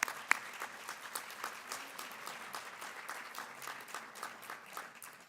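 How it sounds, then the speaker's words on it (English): A crowd at a charity fundraising event applauds steadily, sounding faint and somewhat distant, with sharp individual claps standing out over several seconds. "Let's give them a round of applause."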